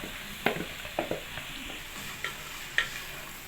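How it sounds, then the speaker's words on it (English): Onion, carrots and spring onion stir-fried in a pan without oil, a faint dry sizzle broken by a few sharp scrapes and taps of a utensil against the pan. "which we're going to stir fry for 2 minutes, not more than 2 minutes"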